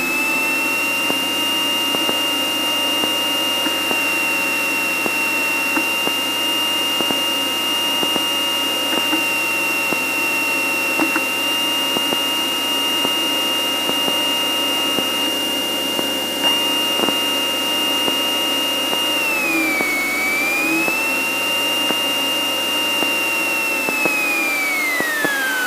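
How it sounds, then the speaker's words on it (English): A light aircraft engine at high, steady RPM during a pre-takeoff run-up, heard from inside the cockpit as a loud droning whine that shifts in pitch near the end. "we're going to stop and do our engine run up here"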